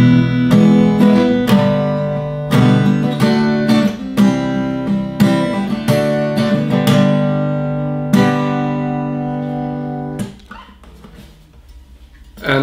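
Schecter Omen Extreme electric guitar played with strummed chords and sustained notes in a rhythmic pattern, loud and close, ringing out and fading near the end.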